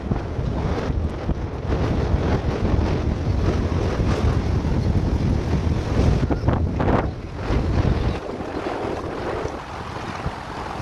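Sea waves at Bakkhali beach roar and wash in a continuous heavy surge, mixed with strong wind buffeting the microphone, loud and close throughout.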